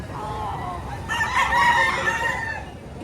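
A rooster crows once at middle distance, a drawn-out rising and falling call over steady outdoor background noise.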